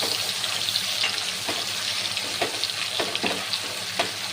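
Chopped tomato and ginger paste sizzle in a pan with bay leaf, cinnamon, cardamom and cloves, a steady close frying hiss broken by several soft clinks and scrapes of stirring.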